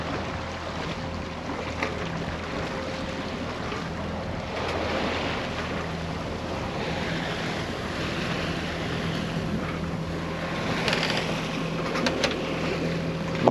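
A sailboat motoring at sea under engine power, passing a cape among small islands: a steady low engine drone with a constant hum runs throughout, mixed with wind rushing over the microphone and washing waves.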